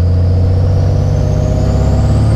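A monster truck engine revs hard and holds at high RPM, a loud, steady, close roar with a strong low drone and no talk over it.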